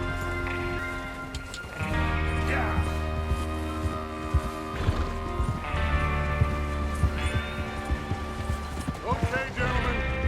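Horses ridden in Red Dead Redemption 2, a run of irregular hoof clops over a steady low hum, heard alongside voices and other game sounds.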